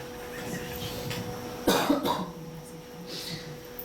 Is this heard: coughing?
yes